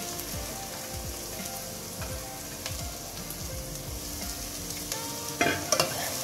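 Chopped cabbage stir-frying with onions in a pan gives a quiet, continuous sizzle with a few stirring scrapes and clatters near the end, close and alone with no voices.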